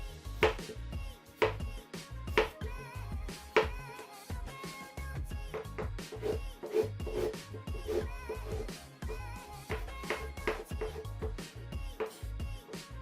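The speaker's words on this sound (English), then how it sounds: "we're just going to dice the same size as the carrots and the onions." Knife dicing peeled potato on a chopping board to match carrots and onions for a chicken katsu curry, a steady run of close, crisp chops repeating throughout without talk.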